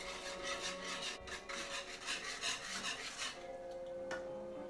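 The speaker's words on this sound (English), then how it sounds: "And then whisk all of this until thoroughly combined." Soup ingredients with chili powder being whisked in a bowl, a steady quiet scraping and rubbing rhythm, close and continuous with no talking.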